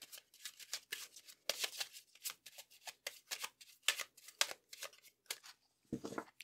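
Lenormand fortune-telling cards riffle and slap in rapid bursts of crisp shuffling, a steady run of papery flicks close by, ending with a softer thump as a card is set down.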